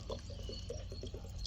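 Water is poured in small amounts into an onion mixture frying in a pan, giving soft wet sizzling and bubbling that is quiet and steady, with no voices over it.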